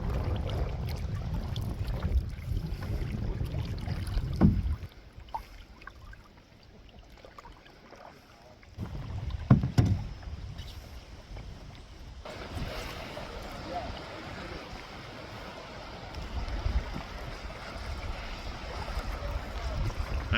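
Canoe paddling on a wilderness lake in northern Minnesota, with wind buffeting the microphone and water sloshing, strong near the start and end with a quieter stretch in the middle.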